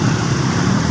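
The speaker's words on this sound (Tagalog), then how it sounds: "bumper to bumper ang traffic dito no?" Dense, heavy road traffic roars at a busy crossing in the Philippines, a loud continuous rumble of engines close by with no talk.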